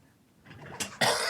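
After a quiet moment, a person nearby lets out two short, sharp coughs in quick succession.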